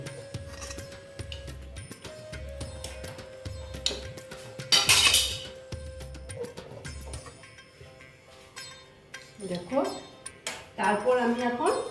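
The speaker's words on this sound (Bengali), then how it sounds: "এইবার আমি আবার কড়াটা বসিয়ে দিলাম" A metal karai is set back down on a kitchen stove while mustard oil is about to be heated for a pumpkin dish, a sharp clank among scattered clinks and scraping, with a voice talking throughout.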